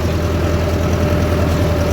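A tractor working a laser land leveler runs with a loud, continuous low drone that stays steady without changing pitch or pausing for the whole moment.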